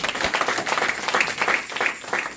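A church congregation clapping together in a steady burst of dense applause with some voices mixed in, lasting a couple of seconds.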